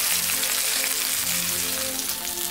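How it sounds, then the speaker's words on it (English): A ribeye steak sizzles loudly in a hot cast iron skillet, a close, steady crackling hiss with no pauses across the whole moment. "you can hear that sizzle"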